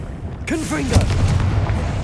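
A Confringo blasting spell explodes in Hogwarts Legacy: a sudden booming burst with a sharp crack shortly after, over a low rumbling bed and a brief shouted voice.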